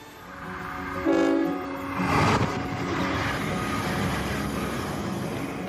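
A passenger train rolls through Queensland, Australia, its horn blaring briefly and then sounding again before the steady, close rumble of the carriages carries on alone.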